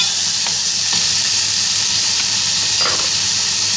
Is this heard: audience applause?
no